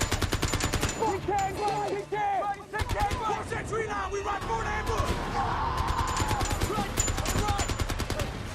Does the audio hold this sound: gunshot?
yes